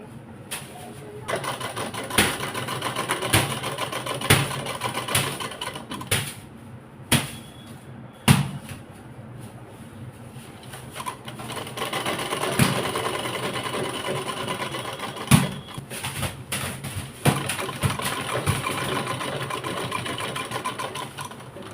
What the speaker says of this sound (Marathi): इथपर्यंत शिलाई मारून घेऊया.